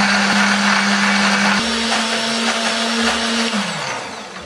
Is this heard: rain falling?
no